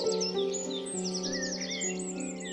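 Cartoon bird chirps and tweets flutter over a sustained orchestral accompaniment in an animated telling of Peter and the Wolf, bright, busy and continuous throughout.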